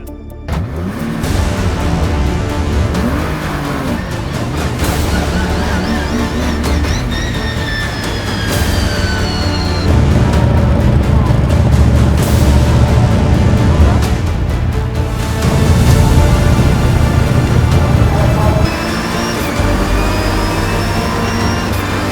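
Race cars roll into a restart at Thruxton in a Britcar Endurance race, a Ferrari among them: a loud, continuous roar of several engines building and swelling as they accelerate, with rising revs layered across the pack.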